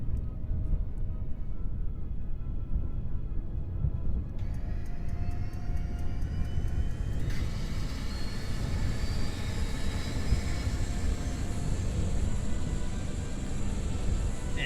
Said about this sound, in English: you are clear for departure and immediate takeoff